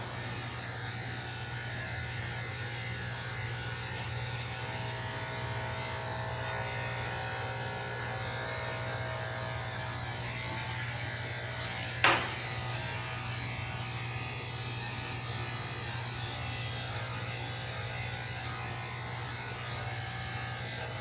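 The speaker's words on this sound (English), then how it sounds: "Shave between the toes. Got a few tangles in here, so good to just shave those out." Electric clippers buzz steadily and close up while shaving the tangled fur between a GoldenDoodle's toes during a grooming session, a constant drone with one brief sharp click partway through and no talking.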